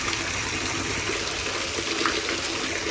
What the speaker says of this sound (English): I'm just coming over to check on the drain, make sure it's not flooding